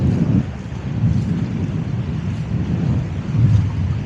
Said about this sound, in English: Quite windy down here again